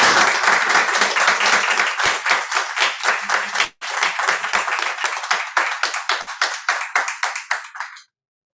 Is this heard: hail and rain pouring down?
no